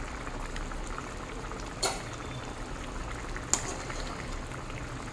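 Prawn and egg curry boiling on a high flame in a pan, a steady low bubbling simmer throughout with two brief sharp clicks, no talking.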